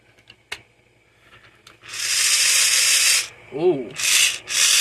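A cheap Dollar Tree electric screwdriver whirs in loud bursts, one long run of over a second followed by two shorter ones, close to the listener, with scattered handling clicks before it starts and a brief vocal sound between runs.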